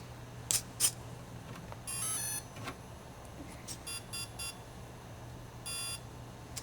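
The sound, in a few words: series of beeps from RC helicopter gyro initializing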